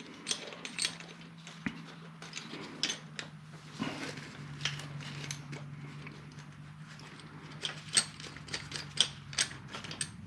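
Bolt being tightened on a shifter bushing removal tool, a series of close, irregular ratcheting clicks and metallic ticks over a faint background hum.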